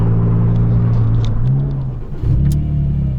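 A Porsche 996 GT2's Mezger engine fires up and settles into a loud, deep rumbling idle, dipping briefly before revving back up nearby.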